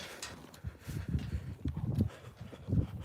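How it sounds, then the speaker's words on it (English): Horse hooves clop in an uneven rhythm at moderate distance while riding on a ranch, with soft outdoor background noise and no talking. "Yep, horse riding."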